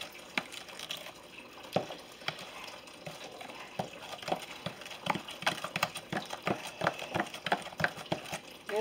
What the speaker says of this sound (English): This takes a few seconds to do because that kind of thickens that pie filling up when you add that pudding.